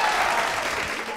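Audience clapping for playback singers at RLV College in Tripunithura, a dense burst of applause from a crowd filling the whole short moment at steady loudness.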